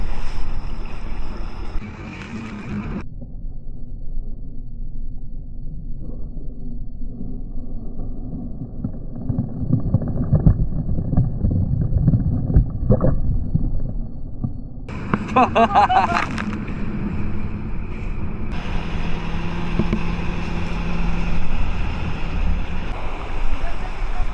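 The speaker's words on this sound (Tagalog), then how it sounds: "Lakas ng alon." Strong sea waves surge and wash at Boracay beach in the Philippines, with a boat's engine droning nearby and heavy wind buffeting the microphone in loud, continuous gusts.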